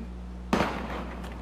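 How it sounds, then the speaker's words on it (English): A single sharp gunshot crack from the video game Valkyria Chronicles cuts through a steady low background hum, its echo decaying over the next second, with a faint second report trailing after. "Gunfire! Everyone, keep your heads down!"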